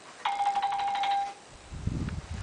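A phone alert plays a short bright electronic chime of rapid repeated tones lasting about a second, clear and close, followed by a brief low rustle.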